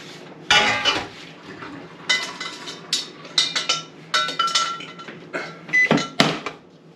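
A spoon stirs chicken, pasta and frozen peas in a baking dish, giving close, irregular clinks and scrapes against the dish, with short loud bursts and quiet gaps between them.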